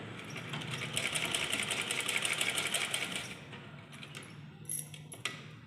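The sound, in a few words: sewing machine stitching along drawn lines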